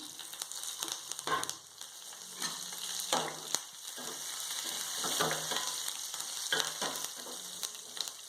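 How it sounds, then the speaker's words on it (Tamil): Onion, mustard seeds, cumin and curry leaves tempering in hot oil for an egg curry, a quiet continuous sizzle broken by repeated spatula scrapes and stirring knocks at irregular intervals, with no talking. "வெங்காயம், கடுகு, வெங்காயம், ஜீரகம், கருவேப்பிலை இதுவெல்லாம் போட்டு தாளிசம் பண்ணியிருக்கோம்"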